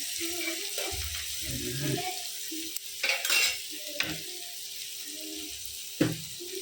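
Onions frying in a pan for chicken curry, a faint, steady sizzle under scattered stirring scrapes and clinks from a utensil, with brief soft noises in a home kitchen.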